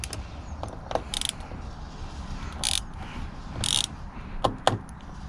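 A small ratchet working crusty screws loose on a Rover P4 step, giving several short bursts of close, rapid clicking between quieter scraping and handling noises.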